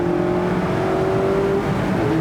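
A 2018 Mazda MX-5 Club roadster's engine while driving, a loud, steady, close drone with a sustained tonal hum and some wind rush, with no voices over it.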